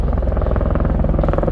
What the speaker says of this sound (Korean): 지금 보시는 아파치는 세계 최고의 공격 헬기로 한 대당 전차 16대를 격파할 수 있는 일명 탱크 킬러라고 불리는 헬기입니다